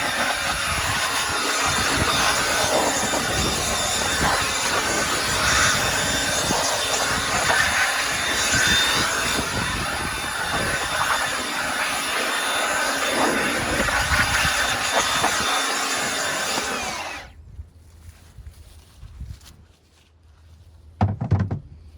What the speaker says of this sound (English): I like to blow any remnants of sawdust off that was there earlier, so this little cobalt brushless blower works well for that.